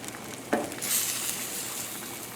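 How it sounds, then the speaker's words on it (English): Flour-dusted shrimp hit hot butter in a pan, a sharp tap followed by a rising, steady sizzle that continues close and clear without talk. "just dust the shrimps gently in flour and then saute them in the butter."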